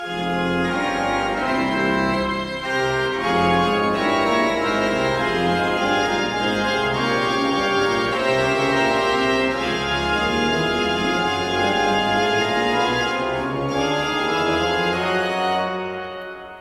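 A pipe organ plays a loud, fortissimo chorale from Mendelssohn's Organ Sonata No. 1, the hymn in the top voice with sustained chords and a moving bass line in the pedals, steady throughout with no talking.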